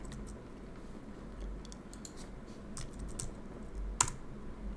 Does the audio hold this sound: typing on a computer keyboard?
yes